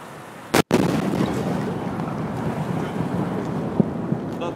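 A sonic boom from the 2013 Russian meteor explosion: one sharp, loud bang followed by a long rumbling roll that fades under outdoor ambience, with a few faint knocks afterward.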